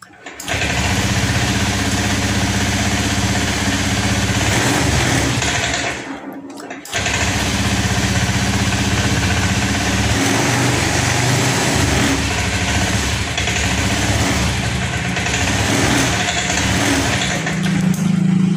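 A small motorcycle engine, with its fuel tank just drained, sputters, briefly cuts out, then restarts and runs at a steady, buzzy idle up close, with voices talking faintly underneath.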